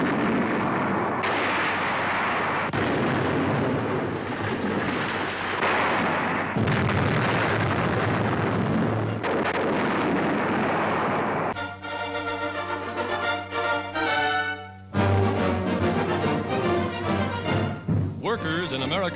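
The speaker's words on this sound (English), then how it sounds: "The powerful mobile field guns hurl 360-pound shells a distance of more than 15 miles." Mobile 240mm howitzers firing 360-pound shells, heavy booming blasts in a continuous dense roar throughout, with a narrator's voice running over the gunfire on an old wartime newsreel.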